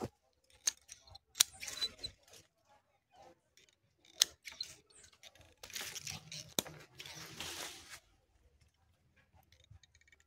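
Pruning shears snip through mulberry branches during a drastic garden pruning, giving sparse sharp clicks and short crisp cuts with rustling of leaves between, fairly quiet and close.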